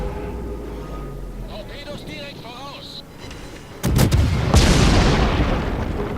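Naval guns firing in a warship video game aboard HMS Edinburgh: a sudden heavy boom near the middle, followed by a loud rumbling roar as someone talks over it.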